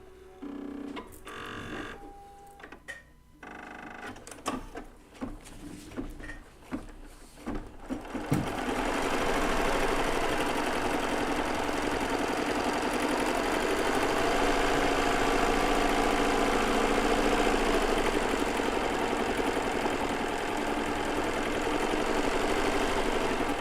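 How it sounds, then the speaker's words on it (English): A Bernina B990 embroidery machine sewing a placement stitch: after several seconds of clicks and handling noises, a loud continuous rapid stitching hum starts and runs steadily to the end. "First it is going to do a placement stitch first"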